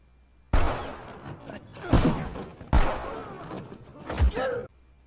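Chaotic bursts of film gunfire, a few heavy booming shots with rumbling tails, punching in at irregular intervals over a tense soundtrack.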